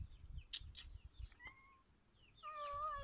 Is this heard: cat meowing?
yes